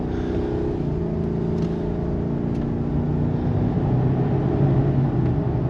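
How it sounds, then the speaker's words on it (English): A Ford F-550 truck camper cruises at about 65 mph on the highway while another truck passes, heard as a steady low road and engine rumble that grows slightly louder near the end. "Oh, we got a truck coming."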